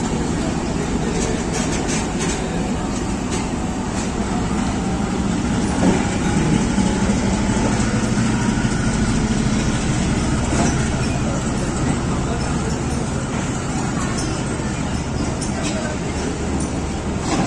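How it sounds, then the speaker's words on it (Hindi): Pakistan Railways GEU 20 locomotive 4560 pulls the Awam Express away from Lala Musa, a continuous heavy rolling rumble with clattering and road-like traffic noise nearby, while a voice talks over it. "13 अवाम एक्सप्रेस 4560 की लीडरशिप में लाला मूसा से रवाना।"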